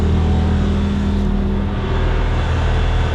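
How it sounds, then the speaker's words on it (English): A snowcat working through deep fresh powder, with a loud, continuous engine drone and a dense, rumbling clatter that hold steady throughout. "That's the Snowcat back here."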